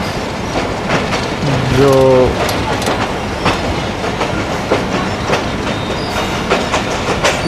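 Lasani Express running along a branch line in Pakistan, between Sialkot and Lahore: a steady rumble of the train on the track with rhythmic clickety-clack of wheels over rail joints and a brief tonal mechanical whine, with faint voices underneath.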